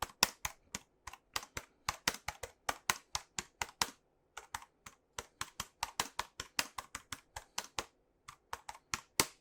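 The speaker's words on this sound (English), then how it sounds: "And I'll give you a little typing test, even though I don't really need to." Typing on a light, compact computer keyboard: a steady run of crisp, close keystroke clicks in quick bursts, with one short pause midway and a brief gap near the end, no voices.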